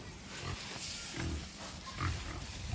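Pigs being brought onto a homestead grunt in short, low, irregular bursts at close range, scattered throughout with no speech over them.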